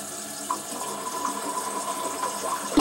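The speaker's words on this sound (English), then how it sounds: "all you have to do is flush it" Water running and swirling in a toilet being flushed after a gel plug in the trap has broken down, a steady moderate rush with small gurgles and a clunk at the end.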